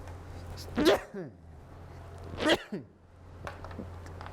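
Two sharp sneezes about two seconds apart come from someone giving a high school math lesson. Each is close and sudden over a low constant hum, with a small breath after each.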